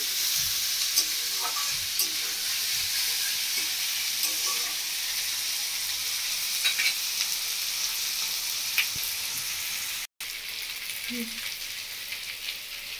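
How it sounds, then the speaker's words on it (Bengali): Onion and tomato frying steadily in a pan, a continuous close sizzle with occasional stirring scrapes and faint clicks, unbroken save for a momentary cut near the end. "আমি আরও 3-4 মিনিট মতো ভেজে নেবো পেঁয়াজ আর টমেটো দিয়ে"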